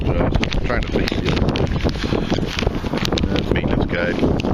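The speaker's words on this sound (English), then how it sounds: "So if you hear the wind," Wind blowing hard outdoors on a rainy day beside an open-frame inverter generator, buffeting the microphone with a continuous loud, gusty rumble and roar.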